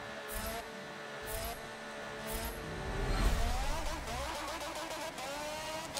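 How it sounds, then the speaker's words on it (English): A Renault F1 car engine in the racing game Forza Motorsport 7 hums with a steady tonal whine that rises in pitch near the middle before settling, carrying on evenly without any talking. "The engine is making weird sounds."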